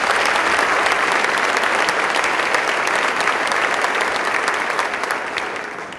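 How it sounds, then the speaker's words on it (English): Dense, steady applause from an audience at a governor's State of the State address in Potsdam, loud and close throughout and tapering slightly at the end. "let's give Gary a round of applause"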